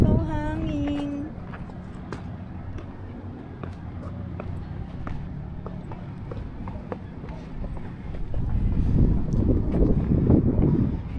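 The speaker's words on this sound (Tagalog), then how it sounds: "Oh, ang hangin." Wind gusting outdoors in Baguio, buffeting the microphone with rumbling bursts that swell louder toward the end, along with footsteps and brief voices.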